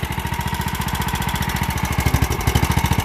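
A small engine on an old John Deere Sabre lawn mower chugs roughly and loudly up close, with rapid evenly spaced popping beats, running unevenly, with the exhaust leaking around the flange at the head.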